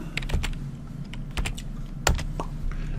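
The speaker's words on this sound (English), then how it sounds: "just click on the Find and type in Scope" Keys clatter on a computer keyboard in quick, uneven bursts of close, crisp taps over a faint steady background hum.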